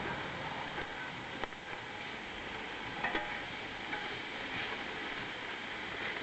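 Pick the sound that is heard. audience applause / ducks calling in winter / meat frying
meat frying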